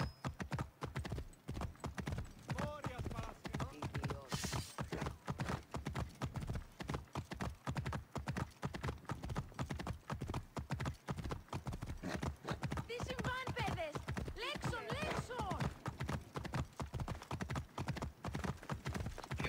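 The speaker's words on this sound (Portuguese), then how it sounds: "O cavalinho dela." Horse hooves clip-clopping in the video game Assassin's Creed Origins: a steady, brisk trotting rhythm that continues throughout, close and prominent, while a person talks over it.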